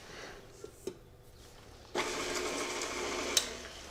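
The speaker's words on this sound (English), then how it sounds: "I'm just going to mix them on the mixer until they're combined" An electric mixer starts up and whirs steadily while combining dry cake ingredients in a bowl, preceded by a few light knocks and clatters, continuous and close with no talking.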